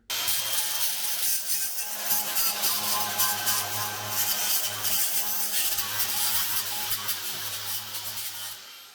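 A surface is roughed up by hand before gluing, giving continuous rasping, rubbing strokes close by with no talking.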